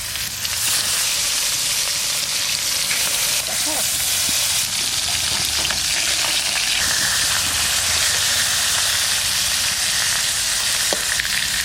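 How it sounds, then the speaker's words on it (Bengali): Lailontika fish rubbed with salt and turmeric fries in a wok, a loud, continuous dense sizzle and spatter heard up close throughout, with a few faint clicks of a utensil. "মাছ ভাজা করবো, কড়াই চাপা দিলাম"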